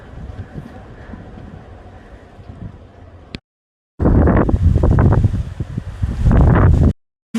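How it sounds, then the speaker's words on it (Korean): Strong wind buffets the microphone on Dosolbong peak of Duryunsan mountain in Haenam under a stormy sky, a loud roaring rush in long gusts broken by two brief dropouts, with no voices. "바람 소리가 예사롭지 않다."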